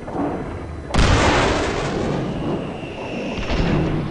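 A landmine blast in the video game Far Cry 4 goes off abruptly as one loud, booming explosion, then a long rolling rumble fades over several seconds with no talking.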